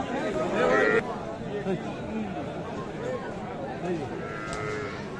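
Cows and calves at a busy village cattle market in Aftabganj, Dinajpur, lowing a few times in drawn-out moos amid steady crowd chatter and nearby voices.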